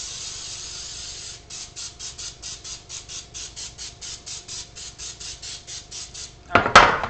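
Nonstick cooking spray mists a baking pan in a long hiss, then a rapid series of about twenty short rhythmic bursts, ending with a brief clatter of the can or pan.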